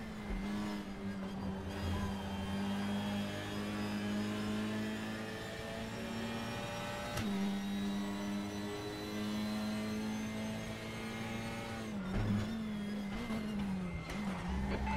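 Honda Civic Type R touring cars racing at Silverstone in a BTCC racing video game, a loud sustained engine whine that climbs and drops through gear shifts, with a brief sharp crack midway and no talk.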